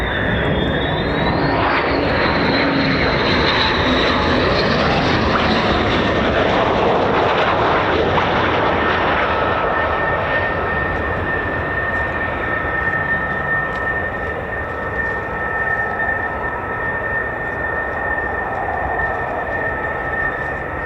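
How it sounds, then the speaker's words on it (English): F-35 fighter jets fly past at RAF Lakenheath, a loud, sustained roaring jet engine rush that swells and sweeps through with a rising whine, then settles into a steady high-pitched drone. "Here come the F-35s as well."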